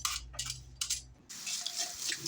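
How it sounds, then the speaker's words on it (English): Peeled apples rinsed under running water from a tap, with short splashy bursts, a pause, then a steadier stream of water, close by and without voices. "After peeling, you rinse them with water."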